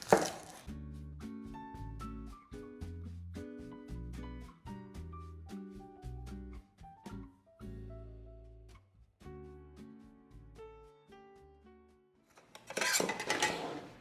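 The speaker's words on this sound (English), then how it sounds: "So I need to finely mince a red onion." A red onion being finely minced with a knife on a board, rapid irregular chopping taps in bursts, close and fairly quiet, with a brief louder clatter near the end.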